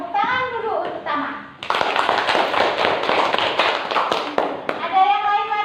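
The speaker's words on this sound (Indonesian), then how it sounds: "Tepuk tangan dulu untuk Tama." Primary-school classroom breaking into enthusiastic applause from many children for a classmate, a dense burst of clapping lasting about three seconds, with a teacher's and children's voices before and after it.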